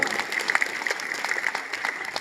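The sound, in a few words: audience applause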